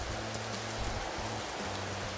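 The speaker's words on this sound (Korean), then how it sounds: "비가 와." Steady rain falls in the survival game Empyrion as a dense, even hiss of drops, with a low tonal hum running beneath it and no voices.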